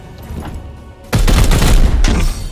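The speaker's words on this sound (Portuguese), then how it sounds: "Vamos atirar naquele ali e arrancar a armadura." Loud burst of rapid gunfire in the turn-based game Warhammer 40k: Chaos Gate - Daemonhunters, breaking out after a quiet moment and rattling for about a second before cutting off, with no talking.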